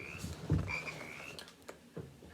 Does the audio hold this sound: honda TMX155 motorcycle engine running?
no